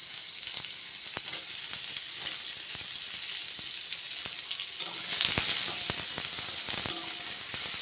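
Chopped small onions frying in a little oil in a pan, a loud continuous sizzle and hiss close up with occasional stirring clicks, swelling briefly midway.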